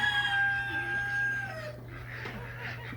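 Backyard chickens settle in to roost on a cold night, a rooster crowing once up close before softer clucks and murmurs from the flock follow.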